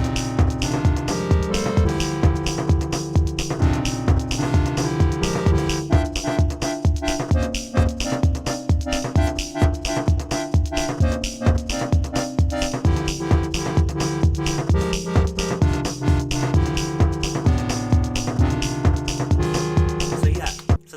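The Cordella preset from the free Tyrell synth plays a warm, droning chordal techno line over a steady added beat, with evenly pulsing kick hits throughout, loud and continuous.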